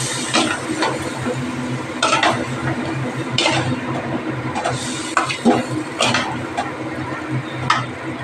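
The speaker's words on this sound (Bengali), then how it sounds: "এবার একটু ভালো করে কষিয়ে নেব।" Vegetables sauté in a pan with mustard, poppy seed and ginger paste. A utensil scrapes and clinks against the pot in irregular strokes over a low background hum, close by, with no talking.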